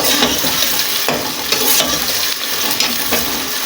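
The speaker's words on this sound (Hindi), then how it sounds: "अब प्याज डल गई, प्याज को थोड़ा चला देता हूँ" Onions stirred and frying in a pot for Kabuli pulao, a steady close sizzle broken by a few scraping stirs, with no talk.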